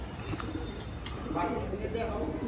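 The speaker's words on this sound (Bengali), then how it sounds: "ওই যে দেখেন কবুতর ডাইনে বামে টানতেছে খালি" Pigeons cooing in a loft among a keeper's flock, soft low repeated coos close by, mixed with background chatter and faint human voices.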